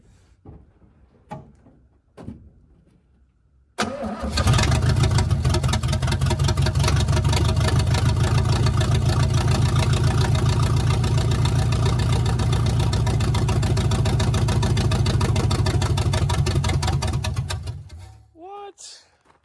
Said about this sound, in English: if you were here, you'd be able to hear that the headers definitely sound a little bit better